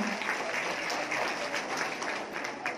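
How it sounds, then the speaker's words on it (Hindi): Gathering at a women's conference claps in honour of a student receiving recognition, a steady, fairly soft wash of many hands applauding with occasional sharper claps, continuous throughout. "एक बार ताली बजा सकते हैं बहन के सम्मान में।"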